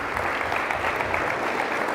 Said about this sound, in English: But if we're giving out a round of applause